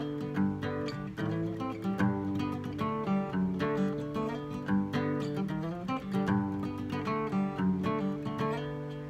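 A song's intro on guitar: rhythmic, percussive strumming and picked chords, busy and continuous for about nine seconds, played alone without speech.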